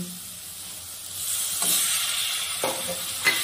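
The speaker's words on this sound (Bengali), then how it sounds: "এবার মশলাটাকে ভালো করে কষিয়ে নিব। সামান্য একটু মশলাটার মধ্যে জল দিয়ে দিব" Spice paste sizzling in a pan with a splash of water, a steady soft hiss of frying with a few light stirring clicks, close and gentle.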